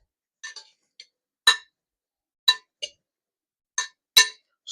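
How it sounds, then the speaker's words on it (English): A spoon against a bowl stirring a shrimp filling dressed with sesame oil gives sparse, bright clinks, about eight taps at irregular intervals over quiet gaps, close and fairly loud. "Stir, shrimp, stir."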